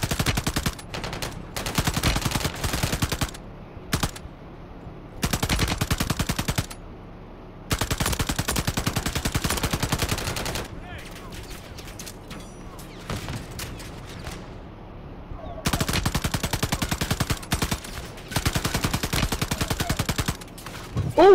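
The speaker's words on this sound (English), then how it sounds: "That motherfucker shooting at you and hit me." Bursts of rapid automatic gunfire in a Call of Duty-style shooter match, loud close volleys lasting a second or two each, separated by brief quieter gaps with a voice now and then.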